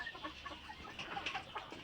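A black Indian rooster in a backyard coop gives soft, scattered clucks, faint and a little distant, against a low background hum.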